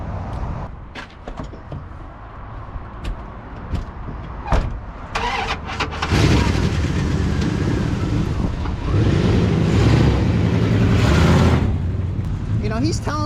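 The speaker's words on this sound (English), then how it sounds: "My buddy's put an engine in it. He can't get it running right." A gray pickup truck with a swapped-in engine that runs poorly cranks with sharp clicks and bursts, then settles into a loud, steady close-up idle with rough, uneven pulses.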